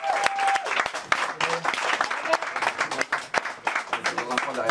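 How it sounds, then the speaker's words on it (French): A crowd applauds a female lightweight boxer being introduced in the red corner at an amateur boxing event, with loud uneven clapping and cheers sustained throughout under an announcer's voice. "On l'applaudit."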